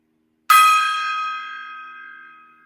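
A small bell is struck once, giving a bright, clear ding that rings on and slowly fades over a couple of seconds, close and alone in an otherwise quiet space.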